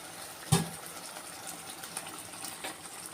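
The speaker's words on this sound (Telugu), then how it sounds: "ఇప్పుడు కొంచెం నీళ్ళు వేసుకుందాం" Water pours from a vessel into a pot of chicken curry on the stove, beginning with a sharp splash and then settling into a continuous, close, gushing fill with faint sizzling beneath.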